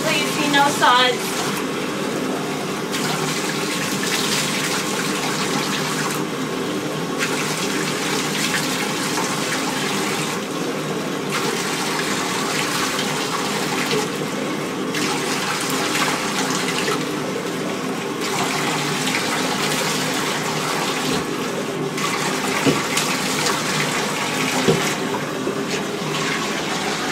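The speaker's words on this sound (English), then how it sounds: "So just take the water and keep going down her back until you see no suds." Water runs steadily from a tap or hose while rinsing suds off a dog's back during a bath, a continuous gushing stream lasting the whole stretch, with a person talking over it.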